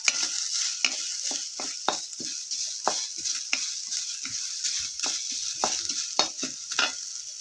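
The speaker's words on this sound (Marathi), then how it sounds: "कांदा भाजताना आपल्याला थोडंसं तेल टाकायचं म्हणजे कांदा आपला चांगला भाजला जातो" Chopped onion frying in a little oil for chicken rassa, a steady high sizzle broken by frequent sharp scrapes and clicks of a spoon stirring against the pan, close and fairly loud with no talking.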